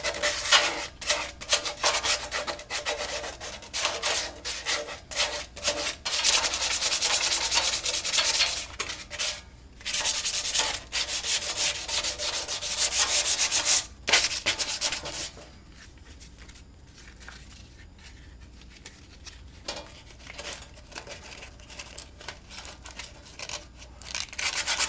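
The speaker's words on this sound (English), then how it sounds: "Some of these gouges are going to need to be sanded smooth to really do this properly." Gouges on a Corvair part are sanded by hand, producing steady rasping strokes that stop briefly, resume, then fade to quieter, sparser scratching in the last third, close and alone without speech.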